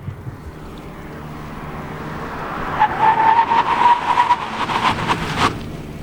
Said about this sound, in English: braking tests from 100 kilometers an hour to 0